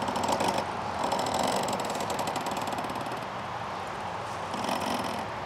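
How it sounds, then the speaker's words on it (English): Mini bike wheel spinning with its brake drum bolts catching on the strut, a steady metallic grinding, rattling scrape that runs continuously and swells louder at the start and end, with no talk over it. "as this brake drum spins, these bolts are making contact with this strut right here"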